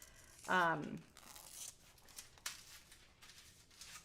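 Scissors snip through a piece of copper foil in one sharp crisp cut, followed by faint rustling of the foil in a quiet room.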